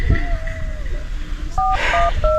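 Cellphone keypad beeps sound in a short series of distinct dual-tone presses during a staged call setup, fairly close and clear over a low background hum.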